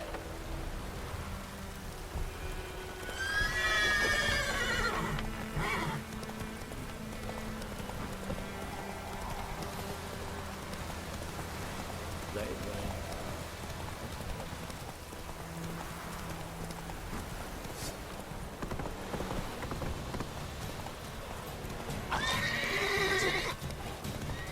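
A horse gallops in The Witcher 3: Wild Hunt on PS4, with steady hoofbeats throughout over a backdrop of falling rain and loud whinnies near the start and again near the end.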